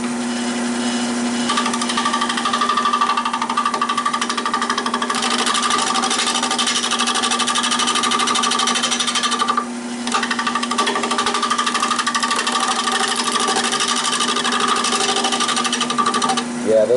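A wood lathe turns an oak bowl as a gouge smooths the surface, giving a loud, continuous whirring drone with a steady hum and gritty cutting texture, broken by one brief dip near the middle.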